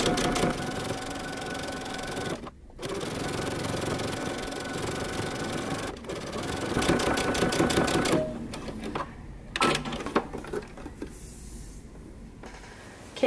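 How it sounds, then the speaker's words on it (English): A sewing machine stitches along the very edge of a pressed fabric belt-loop strip, running in steady rapid bursts broken by short pauses, with a faint mechanical hum between runs. "we're going to stitch along the very edge"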